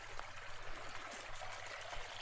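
A creek flows steadily beside a gravel single-track trail under a tree canopy, a soft continuous trickle and gurgle that stays even and moderately faint throughout.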